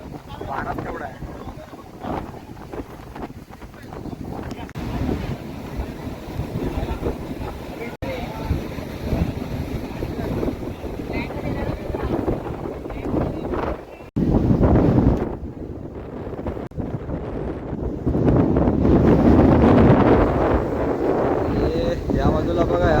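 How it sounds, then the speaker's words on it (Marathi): Strong sea wind roars and buffets the microphone on the beach at Harihareshwar, loud, gusty rumbling that swells and dips, with surf in the background and people talking beneath it. "एवढा वारा सुटला ना जोरात, खतरनाक वारा सुटला एकदम."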